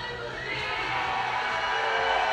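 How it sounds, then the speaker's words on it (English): A packed indoor pool crowd at a university short course swimming championship roars and cheers for a swimmer, a steady, loud wash of shouting voices with no break. "Oh, what a cheer for him."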